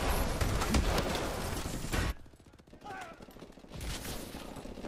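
Rapid video game gunfire crackles loud and dense for about two seconds, then drops to sparse distant shots under faint ambient noise, with voices talking over it.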